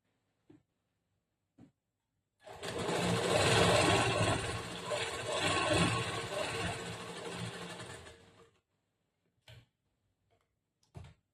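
A sewing machine stitches lining cloth onto the main cloth of a princess-cut blouse, running in one steady, close burst of about six seconds. Short clicks and handling taps come before and after it.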